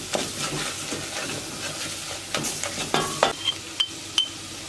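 A spoon stirs biber salçası and domates salçası with flour in a frying pan over lowered heat, giving soft scraping strokes over a faint sizzle, with a few sharp clinks near the end.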